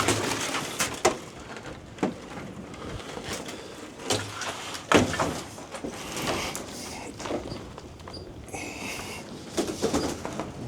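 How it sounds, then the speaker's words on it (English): Pigeons cooing inside an abandoned cottage, with soft repeated coos and scattered knocks and rustles echoing through the empty rooms over about ten seconds, moderately faint. "Yeah, there's pigeons in here. They're probably living up there."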